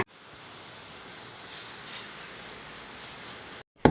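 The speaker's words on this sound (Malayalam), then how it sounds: "കുപ്പീൻ്റെ മൂടി ഭാഗത്ത് നമുക്ക് ഇതേപോലത്തെ ഒന്ന് ആക്സൽ ബ്ലേഡ് വെച്ചിട്ട് നമുക്കൊന്ന് ചെറുതായിട്ടൊന്ന് കട്ട്" A hacksaw blade cuts into a plastic bottle cap while making a homemade bicycle silencer. Faint, soft rasping strokes are heard up close, and the clip ends with a sudden sharp knock.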